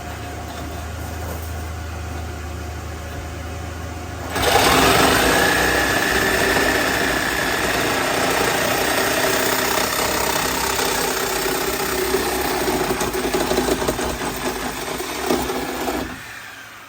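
A Sawzall reciprocating saw starts after a few seconds of low background hum, then runs loud and steady with a buzzing, whining drive for about twelve seconds before cutting off abruptly.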